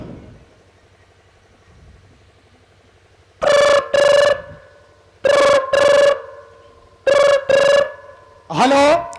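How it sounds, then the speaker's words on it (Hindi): A telephone rings loudly and close in three distinct double-ring bursts separated by short pauses, followed by a brief warbling electronic tone, over a low steady background drone. "मैं इंस्पेक्टर धनराज को फोन करता हूं"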